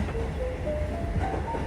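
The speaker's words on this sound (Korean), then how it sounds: "고토덴 열차는 꽤나 오래된 노면 전차예요." An old Kotoden streetcar in Japan rolling along its rails, a steady loud rumble inside the car with faint wheel squeals and clicks running throughout, no talking.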